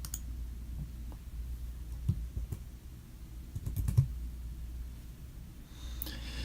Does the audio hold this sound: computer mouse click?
yes